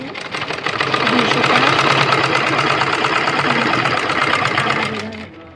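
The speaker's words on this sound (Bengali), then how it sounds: "চাপ সেলাই দিয়ে দিচ্ছে" A sewing machine runs steadily and loud, stitching a blouse neckband with close, even rapid clatter for several seconds before slowing and stopping.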